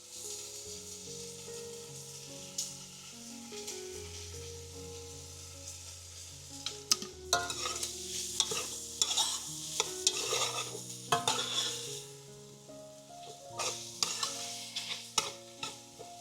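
Shrimp stir-fries in a pan on low heat with added stir fry sauce and seasoning, a soft sizzle under background music, then busier scraping and stirring strokes growing more frequent toward the end, close by.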